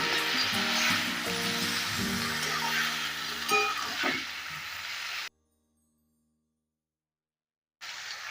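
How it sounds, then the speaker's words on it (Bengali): A sauce and water mixture goes into frying chilli chicken with cabbage, raising a loud, even hiss and bubbling sizzle that cuts off abruptly into a silent gap before resuming. "এবার আমি যে সসগুলো মেশানো ছিল, এই সস মেশানো জলের মিশ্রণটা দিয়ে দিলাম।"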